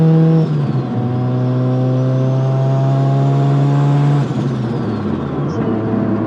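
A turbocharged Mazda RX-7 with a rotary engine pulls hard from close by, its buzzy tone climbing through the revs with brief dips at gear shifts, loud and continuous with no speech.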